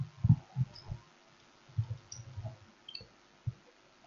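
Mouse clicks while running a query in MS Access on a computer: a few soft, short clicks spaced irregularly over a quiet background, close and faint.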